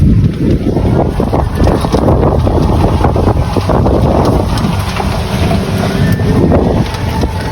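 A loud, continuous motorboat engine roar with heavy wind buffeting, staying close and strong throughout with no voices, in the Philippines.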